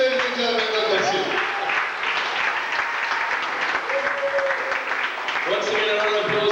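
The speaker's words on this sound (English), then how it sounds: "Once again, a round of applause to Mr. Gabriel Christian." Audience applause at a Caribbean student gathering, steady sustained clapping filling the room with a voice calling out over it at times.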